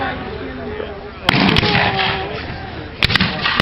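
Cannon fire booms at a Civil War reenactment of the Battle of Gettysburg, two sharp blasts with a short gap between them, the second a quick pair, heard over steady outdoor background noise.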